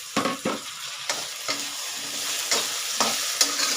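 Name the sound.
diced potato pieces added and stir-fried in pan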